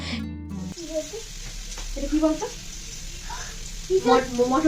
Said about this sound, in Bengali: আলুগুলোকে একটু করে লাল লাল করে ভেজে নেবো